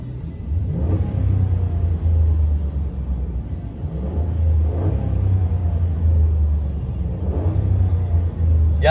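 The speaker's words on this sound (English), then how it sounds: "Let's hear that engine." A white 2017 Ram 1500 regular cab 4x4 pickup with a 5.7L Hemi V8 idles steadily close by, a deep continuous rumble with a few brief revs swelling up every few seconds.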